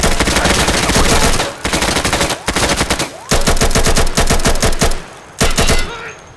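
Loud rapid-fire gunfire in a video game, set in Afghanistan, with long automatic bursts separated by brief pauses and sharp, dense shots filling the whole clip.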